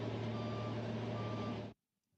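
A truck reverses during a three-point turn in a race paddock, its steady engine drone carrying a continuous backup tone before it cuts off abruptly into near silence.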